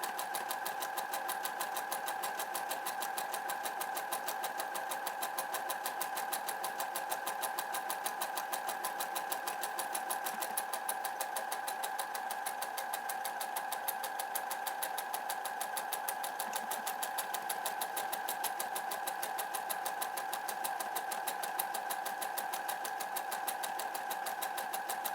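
A sewing machine stitching a buttonhole, its motor whirring in a fast, steady, even rhythm for the whole stretch, close and continuous with no talking.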